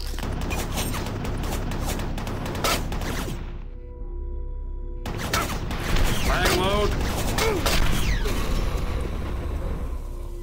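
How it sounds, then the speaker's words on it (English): Heavy, rapid chain-gun fire in the Doom 3 video game, a loud dense stream of shots broken by a short pause and then resuming over clanking mechanisms and other game noise. "Oh god, he has a chain gun."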